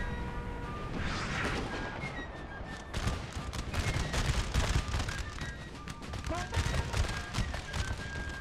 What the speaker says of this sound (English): They're putting a lot of fire into that artillery and all missing.